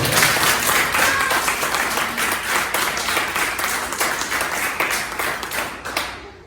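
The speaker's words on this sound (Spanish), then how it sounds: "Ahora sí, dale un fuerte aplauso por eso" Congregation at a Spanish-language church service breaking into sustained applause, dense steady clapping from many hands that swells and then gradually fades out toward the end.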